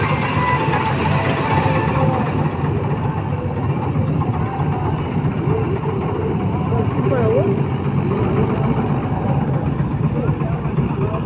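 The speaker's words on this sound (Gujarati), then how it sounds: "5310 જોન ડીયર ટ્રેક્ટર." Engine of a John Deere 5310 tractor running steadily with a combine cutter harvesting paddy rice in a field, a continuous loud low rumble throughout with voices talking over it.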